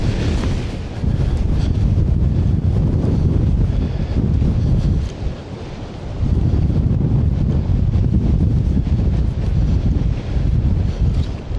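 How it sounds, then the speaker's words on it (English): Waves surge and break against the Iceland coast while wind buffets the microphone, a loud continuous roar with one brief lull in the middle. "Oh, these waves are epic."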